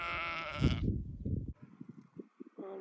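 A sheep bleats loudly up close, a wavering drawn-out cry, followed by a softer, shakier bleat and then a brief third call.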